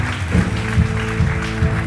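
A church congregation applauding, a brief burst of clapping from a crowd in a worship service, moderately loud with rhythmic pulses.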